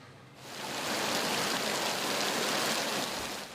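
Heavy downpour from Typhoon Karding pouring over Muntinlupa City at night, a dense steady roar of rain that swells in quickly and holds loud and unbroken, with no voices.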